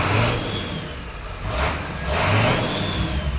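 An abandoned Ford F250 with a 7.3 diesel engine, suspected of injector trouble, revs in two rising surges over a constant close engine drone, loud and alone.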